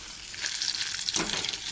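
Bhetki fish pakoras frying in oil, a steady close crackling sizzle with a brief louder burst of bubbling partway through, no talking.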